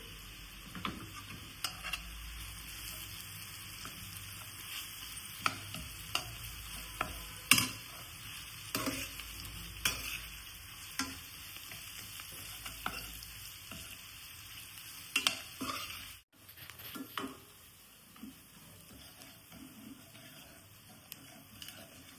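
Bitter gourd and tomato curry sizzles and fries in a pan as it is stirred, with steady close sizzling, scattered scraping clicks from the spoon throughout, and a brief drop in the frying sound near the end.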